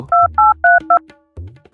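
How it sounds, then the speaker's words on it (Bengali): A telephone keypad sends four crisp, loud dialing tones in quick even succession, followed by a short low hum and a faint click. "আমার সিআইডি রে ফোন দিতে হইব।"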